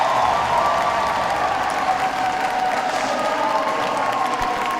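At a bouldering World Cup final in Toronto, a large crowd applauds and cheers in one dense, loud, continuous roar that holds steady for several seconds.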